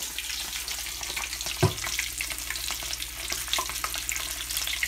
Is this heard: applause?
no